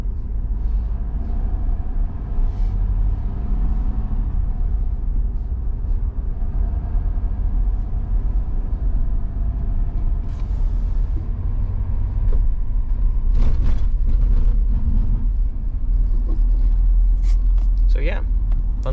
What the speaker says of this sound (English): this is the traffic we sat in for over an hour.